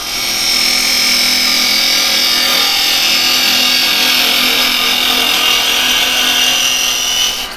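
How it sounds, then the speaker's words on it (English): A roughing gouge with a fingernail grind cuts into wood spinning on a lathe, making a loud, steady rushing scrape that holds for about seven seconds before easing off at the end. "another very good one for doing this sort of thing, the roughing gouge, and I put a fingernail grind on it"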